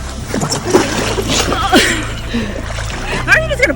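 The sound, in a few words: person pushed into lake water, splash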